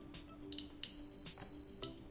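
Sustained electronic beep from a DSC Power Series alarm keypad confirming a smoke detector reset, a brief chirp followed by a steady tone lasting about a second, clear in a quiet room.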